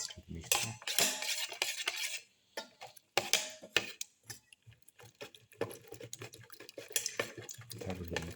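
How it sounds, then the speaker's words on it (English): A utensil whisks and clinks against a bowl as black pepper is mixed into a moringa-leaf omelette egg mixture. Rapid irregular taps and scrapes sound close up, with brief pauses between bursts. "Thoroughly mix in the black pepper"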